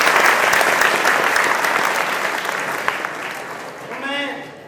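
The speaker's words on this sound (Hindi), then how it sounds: "तो एक बार फिर से इनका जोरदार तालियों से" Students at a motivational seminar at a science academy in Bundi give a guest loud, sustained applause that gradually thins out. A voice speaks briefly near the end.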